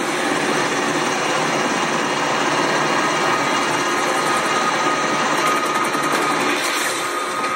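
A loud, steady helicopter drone from the film Sicario: Day of the Soldado fills the whole clip, its rotor and engine roar close and continuous, with a faint rapid chopping near the end.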